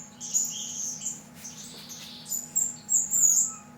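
Small birds in an aviary chirp while foraging for live white worms. The high, quiet tweets come in short, scattered bursts, growing busier toward the end, over a low, faint background hum.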